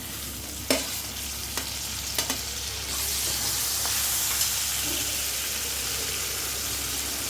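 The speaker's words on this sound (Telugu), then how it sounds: "ఆనియన్స్ అన్నీ బ్రౌన్ కలర్లో వచ్చే వరకు వేగాలండి. టమాటాలు వేసుకుందాం." Onions and tomatoes fry in a pan, with a few sharp spoon knocks against the metal early on, then a loud, steady sizzle swells up and holds close.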